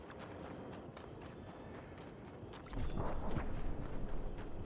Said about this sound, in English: What horse am I hearing?